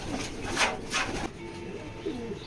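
A male pigeon of a foreign racing line coos close by, two or three soft rounded coos in quick succession early on, then fainter trailing murmurs.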